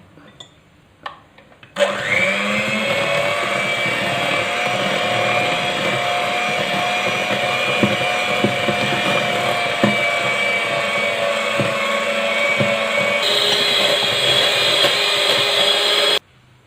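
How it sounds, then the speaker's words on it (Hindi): An electric mixer beats butter and icing sugar for cupcakes. It starts abruptly and runs as a loud, steady motor whine for about fourteen seconds, its pitch shifting slightly near the end before it cuts off. "अब इसको बीट करेंगे, और इसको हमें इतना बीट करना है कि जो मक्खन और ये आइसिंग शुगर का अमेज़ा है थोड़ा वाइटिश की तरफ चला जाए"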